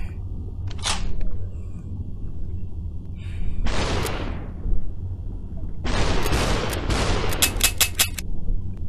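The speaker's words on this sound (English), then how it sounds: "I'm just playing around with the gun right now" Gunshots in the virtual reality game SUPERHOT VR: several loud, sharp blasts a few seconds apart, each trailing a short rushing decay, with a quick cluster of crisp clicks near the end over a steady low background.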